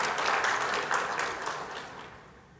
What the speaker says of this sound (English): So big round of applause to our title sponsor